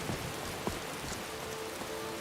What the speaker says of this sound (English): I fast forward time to daytime and it decides it wants to rain.